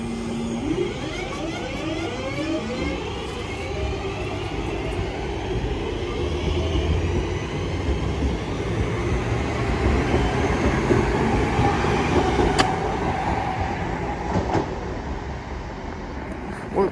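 Class 323 electric train pulling away from the platform at Lea Green on a service to Crewe, a steady rising rumble and whine of traction motors that builds gradually and holds, heard close and alone without talk.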